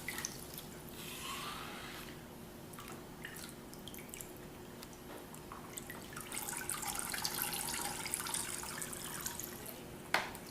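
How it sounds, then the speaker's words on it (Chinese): Water rinsing enzyme cleaner out of medical tubing, a steady trickle with scattered drips and splashes running throughout, moderately close, no voices. "所以我们要反复的多冲洗几次，确保酵素没有残留在内管里面"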